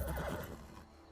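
Short, close horse whinny in The Elder Scrolls Online, one quick rising neigh that dies away within a second.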